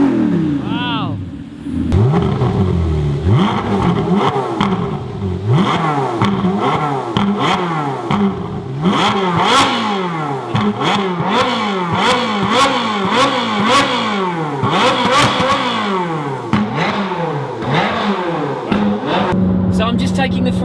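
Stock Ferrari 458 Italia exhaust with fully open valves, revved repeatedly in sharp rising-and-falling bursts, loud and close, with voices talking over parts of it.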